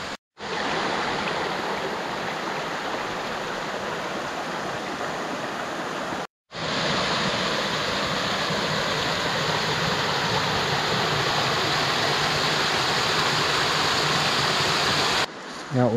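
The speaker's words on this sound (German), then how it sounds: "ich geh mal zum Wasserfall" A waterfall near the castle ruin of Herrenzimmern by Talhausen roars as a loud, steady rush of falling water, continuous throughout with two brief cuts to silence.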